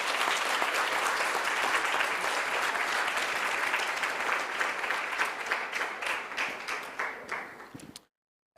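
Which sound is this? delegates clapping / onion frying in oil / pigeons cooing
delegates clapping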